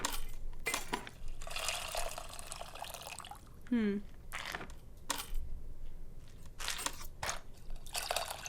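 Water poured in the Indian cooking game Venba while extracting tamarind, a brief liquid pour with a rising gurgle and clinks amid bursts of kitchen noise, faint and close.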